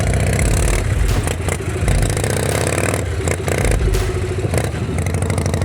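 A custom-built motorcycle with its engine rigidly bolted metal to metal idles at around 600 rpm, a loud, close, rough mechanical chugging with rattling piston and gearbox clatter and uneven scraping vibration.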